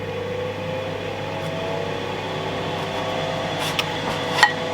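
A Ninja Foodi Smart Health Grill XL preheating before steak goes in, a steady even fan hum with a faint electrical whine and one or two small clicks near the end.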